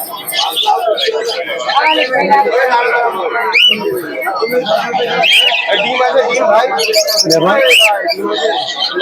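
Many birds chirp and tweet constantly amid a busy crowd at a pigeon and bird market in Beldanga, Murshidabad, with people talking throughout over the chatter.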